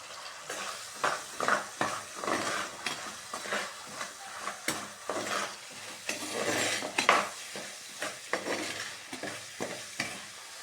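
Shallots, garlic and curry leaves sauté in a pan for a Trichy-style kara kuzhambu, with soft sizzling under repeated rhythmic scrapes and clinks of a spoon stirring against the metal.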